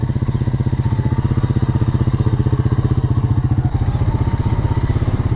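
An ATV four-wheeler carrying a homemade boom sprayer across a food plot, its engine running with a steady, loud, rapid chugging pulse that stays close and even throughout, with no voices.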